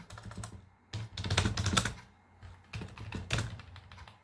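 A computer keyboard clatters as someone types Java code, fast bursts of close key taps separated by short pauses, with no voice heard.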